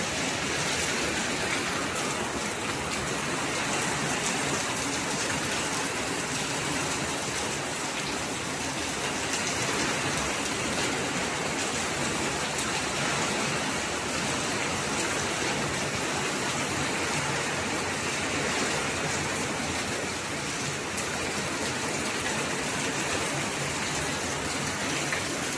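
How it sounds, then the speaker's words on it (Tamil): Heavy rain pouring steadily in Palayam, Dindigul district, a dense, unbroken hiss of downpour on surfaces lasting the whole stretch, loud and close with no voices. "அருமையான மழை."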